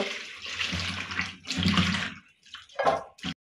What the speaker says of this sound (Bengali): আমি মূলা ধুয়ে নিচ্ছি